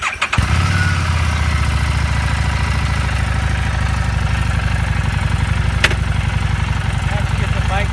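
A fuel-injected motorcycle engine cranks briefly and catches, then settles into a steady, throbbing idle that stays loud and close, with a faint click partway through.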